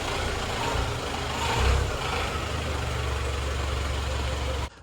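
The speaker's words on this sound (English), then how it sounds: "It just makes weird sounds. It almost reminds me of a tractor engine." The engine of a 2025 Toyota Tacoma pickup idles with a low, steady, slightly rough rumble reminiscent of a tractor, swelling briefly before settling and then cutting off at the end.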